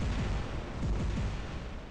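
Machine guns on a robot in the War Robots video game fire in a rapid rattling burst of repeated booming shots, dense and continuous, then trail off without any talk.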